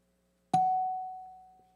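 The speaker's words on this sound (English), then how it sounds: "hit the chimes. This is what you'll hear." A single bright chime rings out once in a quiet room as a debate timer's 30-second warning, striking sharply and then ringing on in a long, clean, slowly fading tone.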